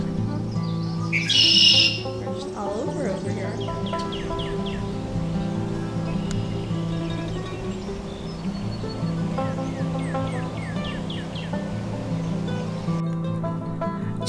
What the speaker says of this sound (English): one bird's on the sign right by you